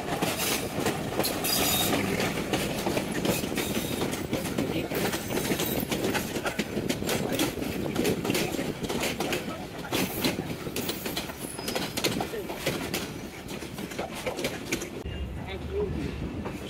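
A Jamalpur commuter train rolls across a double-line crossing, with continuous clattering wheels and rhythmic clickety-clack over the rail joints, faint wheel squeal, and a voice speaking over the noise.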